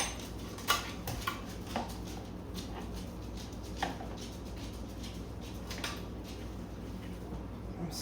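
A spoon scooping keto bacon, Brussels sprouts and hamburger gratin out of a baking dish, several light clinks and scrapes against the dish spaced over a few seconds, close and fairly quiet.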